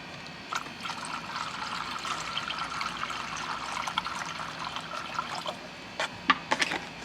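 Bleach pours into water in a steady splashing trickle with small gurgles and bubbling spurts, close and fairly quiet, growing more sputtery toward the end.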